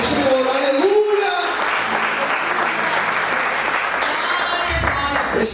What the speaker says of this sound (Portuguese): Aplauda o Senhor, aleluia.